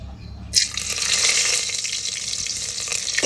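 Onions and a couple of chillies hit hot oil in a pan for mashed potato, setting off a sudden loud, steady sizzle that holds unbroken for about three seconds, with no talking.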